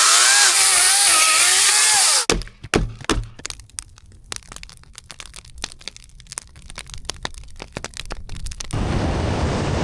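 An electric chainsaw buzzes loudly for about two seconds at a snowy high-altitude winter campsite, then cuts off. Sharp cracks and knocks of wood follow, and steady background noise returns near the end.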